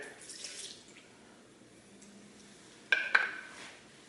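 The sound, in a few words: pouring tequila into a blender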